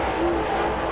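Dirt super late model race cars accelerate during qualifying at the Talladega Short Track Ice Bowl, producing a loud, steady, dense engine roar that holds without a break through the moment.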